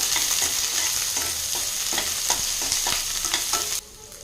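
A large chopped onion and two green chillies fry in a pan while being stirred for a beetroot poriyal. A dense, loud sizzle runs under rhythmic spatula scrapes, then drops suddenly quieter near the end.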